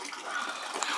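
Water sprays in a steady hiss from a homemade water squirter, a continuous rushing gush with a slight spatter toward the end and no voices.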